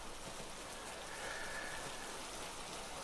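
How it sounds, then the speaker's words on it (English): Steady rain pouring in the survival video game Hurtworld, a dense, even hiss of falling drops that stays constant and fairly loud throughout with no talking. "Oh, it's raining."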